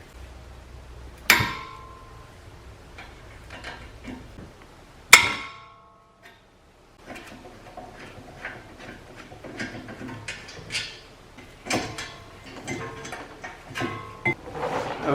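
Car brake caliper bracket removal with hand tools, sharp metallic clanks and knocks followed by ratcheting clicks and small scrapes, close by and intermittent, with a brief pause midway.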